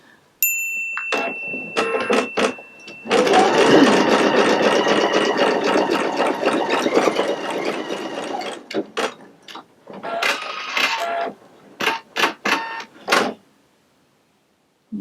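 Pfaff creative icon 2 embroidery machine stitching ribbon stitches in the hoop: a steady mechanical whir with a rapid needle clatter running for several seconds, then shorter stop-start bursts, with a few faint beeps near the start.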